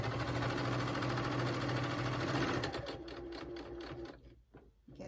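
A sewing machine back stitching a DIY cotton mask, a steady fast needle drone that slows into distinct stitching thumps and then stops near the end.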